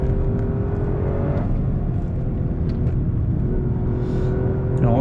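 Toyota GR Yaris on winter tyres driven hard on a dry closed road, a steady loud engine drone with some revving, heard from close up and without any voices.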